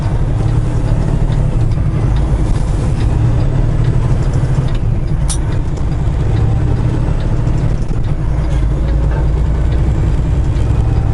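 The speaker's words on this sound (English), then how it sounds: "Whoa, big truck's coming." A big truck passing close by, a steady loud heavy engine rumble that holds throughout with no break, heard from a truck in traffic.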